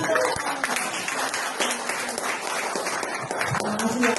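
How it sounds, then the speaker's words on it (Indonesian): Audience applause at a Christian testimony gathering in Indonesia: a dense, steady wash of clapping from many hands that holds at an even level for about four seconds. "Tepuk tangan."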